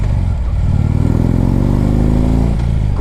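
A 2010 Harley-Davidson Ultra Limited motorcycle on a test ride, its V-twin engine loud and close, revving up in a steady rising pull with a rough, throbbing tone.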